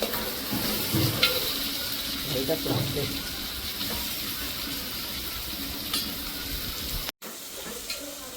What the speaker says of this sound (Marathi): आता आपला कांदा शिजत चाललाय